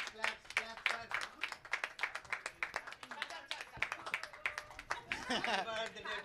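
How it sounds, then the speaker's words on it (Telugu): An audience claps at a cake cutting during an arts academy's 25th anniversary programme, quick steady claps rising into a fuller burst near the end, with people talking over it. "అందరు క్లాప్స్ కొట్టండి, కొట్టండి."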